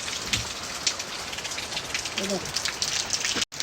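Steady rain falling during a power outage, a continuous dense hiss of drops on surfaces that fills the whole stretch at an even level, with a faint hint of distant voices beneath it.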